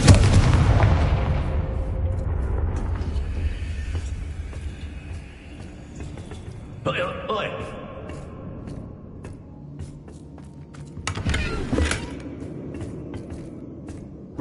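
Confringo spell blasts in Hogwarts Legacy burst out as a few booming explosions, one heavy blast at the start and sharper cracks later, separated by quieter rumbling game ambience.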